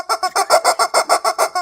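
A voice mimics a rubber chicken squawk with a rapid string of about a dozen evenly spaced, nasal honking bursts, loud and close with no other sound.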